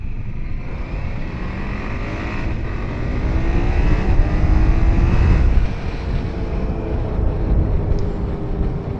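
A 2024 BMW F800GS motorcycle accelerates on the road under heavy wind rush. The engine note rises as it pulls, and the loud roar swells in the middle of the run.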